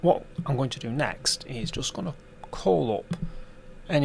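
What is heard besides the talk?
None of the usual background noises is heard.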